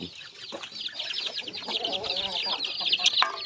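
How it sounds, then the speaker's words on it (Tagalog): Small young chicks from a batch of poultry peep together in a dense, continuous chorus of high, overlapping chirps. The sound is steady and moderately close, with no talk over it. "magbibigay tayo doon sa ating ano, mga maliliit na sisew."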